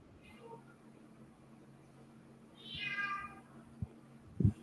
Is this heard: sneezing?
no